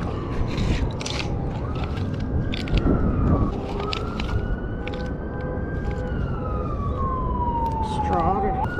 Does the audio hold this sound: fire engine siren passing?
yes